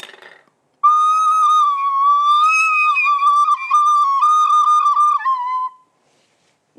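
Strong wind imitated on instruments, a sustained whistling tone that rises and wavers for about five seconds, loud and alone, ending abruptly.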